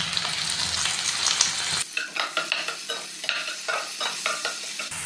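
Garlic ginger paste hits hot oil with a loud burst of sizzling frying for a brinjal and potato curry, then settles into a crackling sizzle broken by rhythmic scraping stirs, close and alone.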